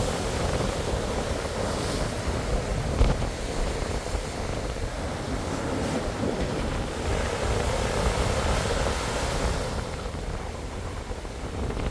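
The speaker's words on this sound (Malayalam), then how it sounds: "അലയടിക്കുമ്പോഴേ അതിൻ്റെ ചാറൽ നമുക്ക് കറക്റ്റായിട്ട് അടിക്കാൻ പറ്റുന്നുണ്ട്" Ocean waves surge and crash against the rocky coast at La Roche Qui Pleure, Mauritius, a continuous loud roar of surf mixed with wind buffeting the microphone, with no voices.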